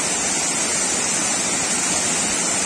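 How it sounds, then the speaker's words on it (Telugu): Sunnapugedda waterfall in the Srikakulam agency area roars as a steady, loud wash of falling water with no break. "ఉన్నపురాయి గడ్డ వాటర్ ఫాల్"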